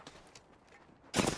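Brief burst of gunfire from Apex Legends near the end, loud and close after a quiet stretch with faint game noise.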